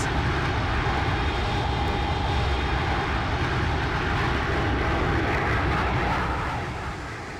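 A Boeing 757 in Icelandair livery lands in X-Plane 11, its thrust reversers giving a loud, sustained broadband engine roar that holds steady and then begins to taper off at the end.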